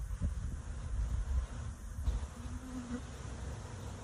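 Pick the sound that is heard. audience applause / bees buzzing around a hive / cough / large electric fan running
bees buzzing around a hive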